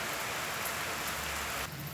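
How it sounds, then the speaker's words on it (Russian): Rain falls steadily in Paris as a soft, even hiss of drops on surfaces, quiet and continuous with no voices. "Дождь пошел!"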